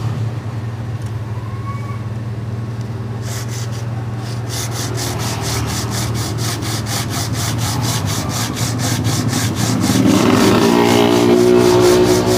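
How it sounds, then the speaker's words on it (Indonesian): Rhythmic back-and-forth rasping of coarse 60-grit sandpaper on wood, strokes growing faster and louder, over a low background hum. "Amplas tebel ya, amplas nomor AA60."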